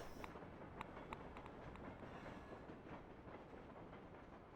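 Faint, steady rumble and clatter of a train rolling past in a competitive video game on the Train map, with scattered soft clicks over a continuous wash of noise and no talking.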